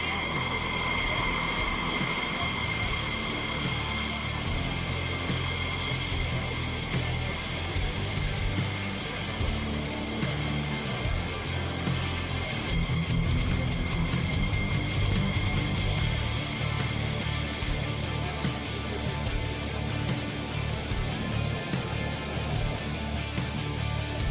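Aerobatic airplane engine droning at an air show in Bill Stein's power aerobatic routine, a steady distant hum under continuous announcer talk.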